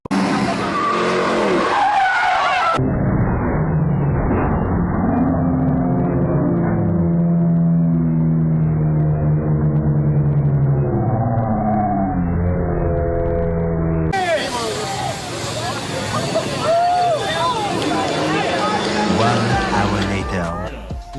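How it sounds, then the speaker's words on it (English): A car doing a burnout roars with a revving engine and long, loud tire squeal as it slides out of control, with a sudden shift in the sound partway through. "One of those burnouts going wrong."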